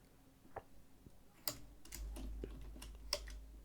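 Typing on a computer keyboard while writing a MySQL query: sparse, irregular key clicks, close and quiet, with a low hum underneath and no speech.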